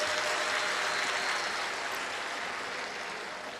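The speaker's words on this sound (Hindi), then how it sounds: "यजमान परिवार के लिए जोरदार ताली बजाएं" An audience at a Shiv Mahapuran katha religious gathering claps for the host family, a dense, sustained roar of applause that gradually tapers off toward the end.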